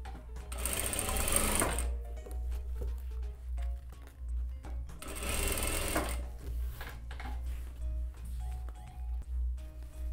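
Sewing machine topstitching over a lace strip on a child's festival dress, running in two fast whirring bursts of rapid needle clatter separated by quieter handling pauses, close up over a low hum.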